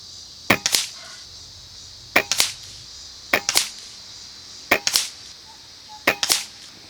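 Five sharp, loud shots from an Air Venturi Avenger PCP air rifle filled to around 3000 psi, each crack followed by a quick pellet-impact knock, fired at irregular intervals of roughly one to one and a half seconds.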